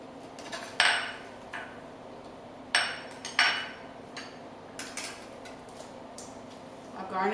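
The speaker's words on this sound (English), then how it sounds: "Now I'm going to serve a piece" A slice of guiltless peach cake is served onto a plate, marked by a few sharp clinks and taps of utensil on dish, spaced apart and fairly quiet, with someone talking between them.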